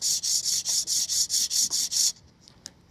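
Guitar saddle of an acoustic instrument rubbed back and forth over abrasive paper in about ten steady, even strokes, close and distinct, then a quiet pause with a small tap.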